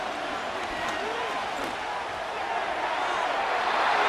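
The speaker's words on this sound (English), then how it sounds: "The noise very loud from the crowd." Broad, loud stadium crowd roar from a Madden NFL 25 football game between the Arizona Cardinals and Tennessee Titans, a continuous wash of noise that swells slightly toward the end.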